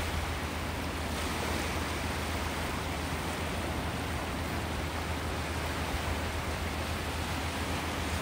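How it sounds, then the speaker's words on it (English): Ocean waves break on a beach in North Naples, Florida, heard as a steady, even wash of surf with no distinct individual crashes and no talking. "Beautiful with the waves breaking."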